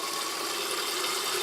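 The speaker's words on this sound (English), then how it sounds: "I'm going to add some hot water" Hot water pours steadily over rice in a container, a close, continuous rushing splash with no talking.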